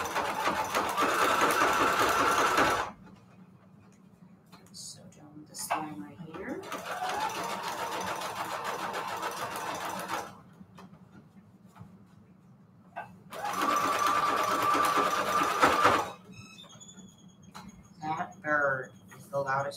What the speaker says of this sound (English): Let's sew down this line here.